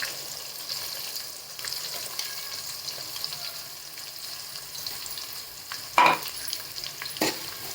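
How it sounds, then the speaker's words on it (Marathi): Onion and green chili paste sizzle in a hot pan while being stirred, a steady close frying hiss broken by a couple of sharp scrape or clatter spikes near the end, no talking. "कांदा आता आपलं हिरव्या मिरचीचा ठेचा याचा टाकून घेते मी"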